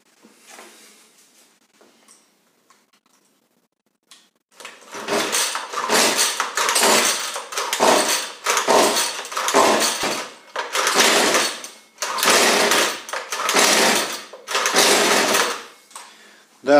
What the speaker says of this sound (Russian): Так, ну что, собрал я косу. Сейчас попробуем завести.